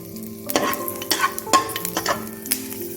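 Bay leaf, dried red chilli and panch phoron sizzle and crackle in hot oil, with a spoon scraping and stirring the pan in several distinct strokes.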